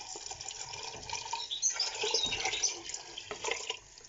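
Water poured into a cooking pot for Moroccan harira, a close, soft splashing and trickling stream that swells and varies for a few seconds before tapering off.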